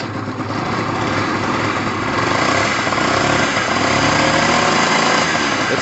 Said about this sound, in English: It's a two-stroke, guys. It takes a while to warm up.